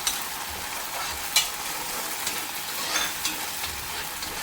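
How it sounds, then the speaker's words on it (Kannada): Mackerel masala fries in a pan with a faint, steady sizzle, broken by a few soft clicks and knocks of a utensil. "ಇದು ಚೆನ್ನಾಗಿ ಫ್ರೈ ಆಗಲಿ"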